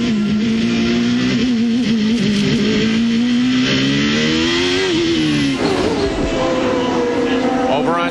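A CART IndyCar race car at the 1993 Toyota Grand Prix of Long Beach street race, its engine whining at high revs and rising in pitch, then dropping sharply at an upshift before climbing again, with commentary over it.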